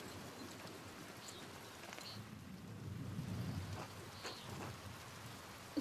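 Steady rain with rumbling thunder in the historical adventure video game Pentiment, a soft, constant patter with a swelling low rumble in the middle and no voices.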